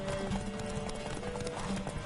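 Horse hooves clip-clopping in a video game, a quick steady run of soft muffled hoof beats at close range, set against a low background hum.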